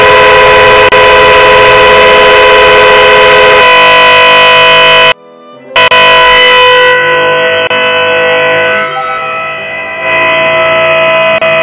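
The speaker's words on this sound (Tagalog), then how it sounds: "Hinila ko na kaagad yung busina dahil talagang ayaw niyang tumigil." Stuck horn on a Kawasaki 675NK motorcycle blaring continuously, very loud and close, with a brief cutoff midway before it resumes droning.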